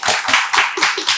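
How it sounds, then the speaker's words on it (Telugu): A class audience claps in a short burst of about five quick, loud claps close to the listener, with no voices. "క్లాప్స్ కొట్టండి"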